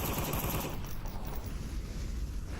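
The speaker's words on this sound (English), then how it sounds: "Now, Smoyle's shooting through this hedge." Rapid automatic gunfire in the VR shooter Onward, fired through a hedge, rattling continuously and densely at close range with a loud, noisy wash throughout.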